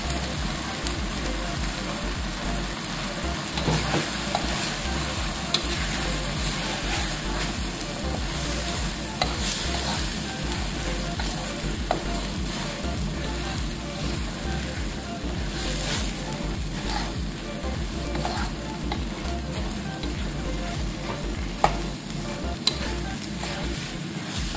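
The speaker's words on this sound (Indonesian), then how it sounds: "Kemudian kita masukkan daun jeruknya dan juga serainya." Kaffir lime leaves and lemongrass being stir-fried in a pan for a spicy rica beef dish: a steady, moderate sizzle with occasional scrapes and stirring knocks running throughout.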